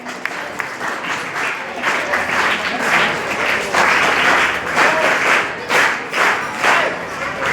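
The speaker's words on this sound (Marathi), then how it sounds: "जोरदार टाळ्या वाजवायच्या" A crowd applauds loudly and steadily at an ideal teacher award ceremony, dense clapping swelling and ebbing close by for several seconds.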